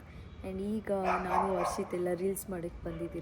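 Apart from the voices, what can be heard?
dogs barking outside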